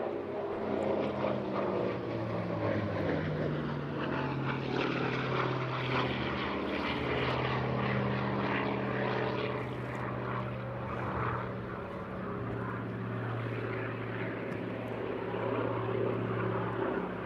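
A propeller warbird powered by a Bristol Centaurus Mark 18 radial engine drones past at an airshow, a loud, steady engine roar holding for the full stretch with a slight swell and fade.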